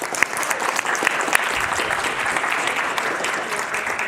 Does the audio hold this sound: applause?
yes